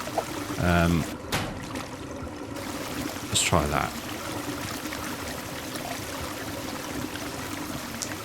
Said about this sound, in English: any excess water will go down that drain over there